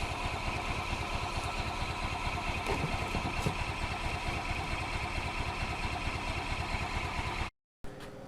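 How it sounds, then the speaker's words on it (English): An electric pump drains the fuel tank of a 2005 Club Car Precedent gas golf cart, a steady close buzzing hum with a fast pulsing rhythm, then a short cutout. "I have this set up to pump directly out of the tank."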